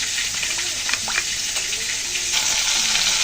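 Pangas fish frying in hot oil, giving a steady, close sizzling hiss with a few soft pops and stirring scrapes, rising slightly louder toward the end.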